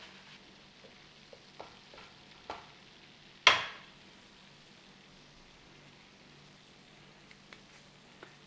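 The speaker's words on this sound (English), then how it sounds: "Just give it a little stir around, let all the onions and the spices get together." Onions and spices frying in a pan for beef keema, stirred now and then: a low, steady sizzle with scattered soft clicks and one sharper scrape of the spoon near the middle.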